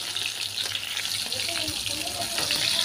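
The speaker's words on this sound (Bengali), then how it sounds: "মাছটা এখন আমি একদম হাই টু মিডিয়াম ফ্লেমে লাল লাল করে ভেজে তুলব।" Catla fish pieces frying in hot oil over a high-to-medium flame, a steady close sizzle and crackle running through with faint clinks, no talking.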